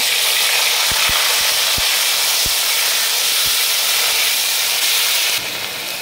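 Onion paste hits hot oil in a pan for a Bengali taro and tangra fish curry, giving a loud, steady broadband sizzle with a few sharp crackles and pops; the hiss eases slightly near the end.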